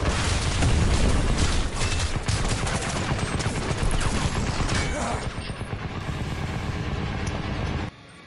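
Tank cannon fire and explosions in the Crysis video game, a dense barrage of booms and rattling gunfire that rumbles continuously before cutting off abruptly near the end.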